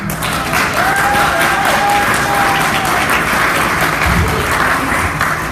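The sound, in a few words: audience applause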